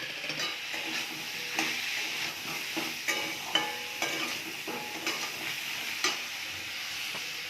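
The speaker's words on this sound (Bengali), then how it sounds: "ভালো করে কষে নেব।" Vegetables with tomato, salt, turmeric, chilli, cumin and coriander sizzle in a pan while a spatula scrapes and stirs with irregular clinks, close and fairly quiet, no talking.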